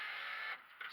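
Power window motor in a 1988 Ford Bronco Eddie Bauer, a quiet, brief electric whine that runs steadily, cuts out, then restarts for a moment.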